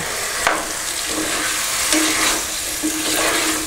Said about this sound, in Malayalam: ഇനി നന്നായി ഇളക്കി കൊടുക്കുക.